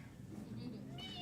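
A cat gives a short meow at close range, rising briefly near the end over a voice speaking underneath.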